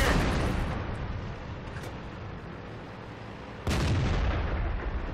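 A tank cannon fires in World of Tanks, a sharp, heavy boom near the end that follows a long rumbling decay from an earlier shot. Battle ambience continues throughout, with no talking.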